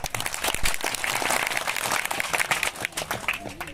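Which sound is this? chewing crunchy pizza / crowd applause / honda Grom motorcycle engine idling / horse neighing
crowd applause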